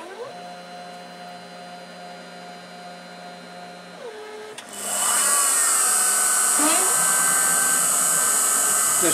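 An Emco F1 CNC machine spot-drilling a wheel hub with a 90-degree spotting drill: quiet motor tones and hum, then the spindle spins up into a loud, steady high whine that holds to the end.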